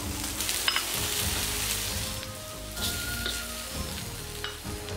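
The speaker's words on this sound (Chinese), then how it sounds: "再把菠萝倒进去， 煸炒一下就可以出锅了。" Pineapple fried rice seasoned with curry powder sizzles in a wok as it is stir-fried, a close, steady frying hiss broken by scraping and tossing of the spatula.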